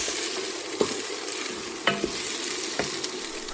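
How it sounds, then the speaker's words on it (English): Onions softening over medium heat in a pan for a smoked mackerel corn chowder, a steady close sizzle with a few soft scrapes of stirring, no voices. "you want to keep an eye on your onions while they're sauteing so they don't take on much color"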